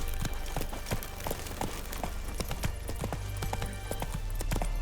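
Horse hooves in The Witcher 3: Wild Hunt, rapid rhythmic clip-clopping of a galloping horse over a low ambient game soundscape, steady and fairly close.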